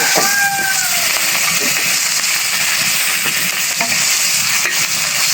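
Half a rohu fish tail fries in a hot pan with a loud, continuous hissing sizzle, close up, with faint scrapes from stirring.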